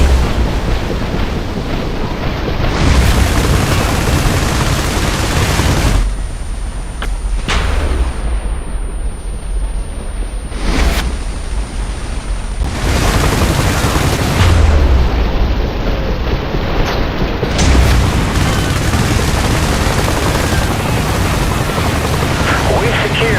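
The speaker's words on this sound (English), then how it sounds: "Airstrike approaching to designated coordinates." Airstrike explosions in the PC war game IS Defense, with dense, continuous booming blasts and rumble filling the scene loudly, interrupted by brief quieter gaps, with radio-style voice callouts mixed in.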